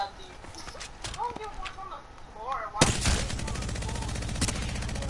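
Gunfire from a weapon in the video game Apex, starting with scattered shots over a quieter game ambience, then a loud sustained burst of rapid automatic fire from about midway, with voices talking.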